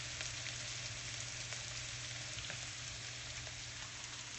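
Cabbage frying in a pan gives a steady, soft sizzle with a faint crackle throughout, heard alone with no talking.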